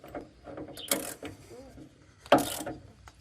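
A wrench on an extended handle ratchets in two sharp bursts of metallic clicking while working a bolt loose, close by, with quieter mechanical rattles between.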